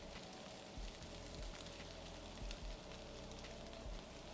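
Onions frying in butter in a pan for a homemade In-N-Out Double Double burger, a steady dense sizzle with occasional soft thumps as they are stirred.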